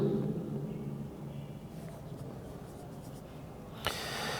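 Marker or chalk scratching out a heading on a classroom board, faint soft strokes and squeaks in short bursts, with a sharper tap near the end.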